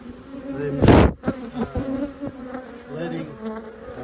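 Honey bees buzz around an open hive during an inspection, a steady close hum broken by a loud whoosh and several knocks and clicks of handled equipment.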